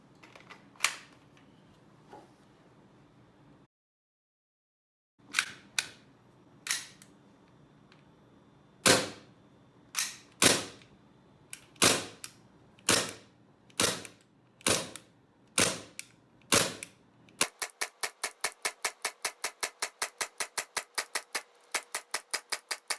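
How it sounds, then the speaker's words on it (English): Airsoft gas pistol fired with a regular magazine, then an RA-TECH extended gas-chamber magazine: a few spaced sharp cracks, a short silence, a dozen evenly spaced loud shots, then a fast rapid string of quicker pops. "we're going to test to see the difference between how many shots we can do with a regular magazine and then our extended gas capacity magazine"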